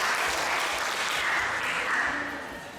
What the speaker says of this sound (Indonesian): Tepuk tangan untuk sektor 1.